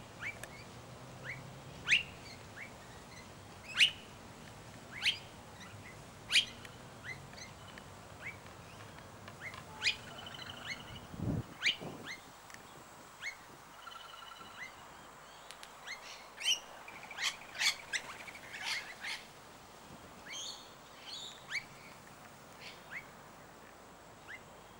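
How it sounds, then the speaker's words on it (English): Blue-faced honeyeater calls in a sunny bird sanctuary, repeated sharp chirps and whistles scattered over steady outdoor ambience, moderately distant, with other birds calling around them. "Now that is the blue-faced honeyeater. I can hear it."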